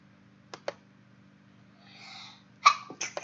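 Two sharp sneezes early on, followed after a pause by a louder sneeze burst and a few smaller trailing bursts, all close and loud over a quiet background hum.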